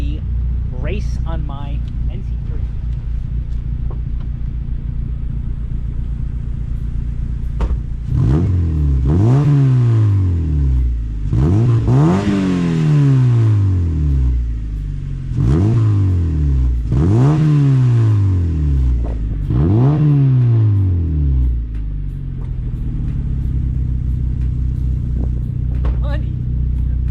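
A Mazda Miata NC3 with a new aftermarket exhaust revs repeatedly, sending out four or five sharp rising-and-falling bursts over a steady idle, loud and close, with someone talking before and after.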